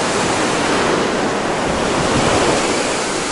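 Sea waves wash onto Cleopatra beach in Alanya, Turkey, in March: a continuous, loud surf roar with a broad hiss and some wind buffeting on the microphone, with no voices.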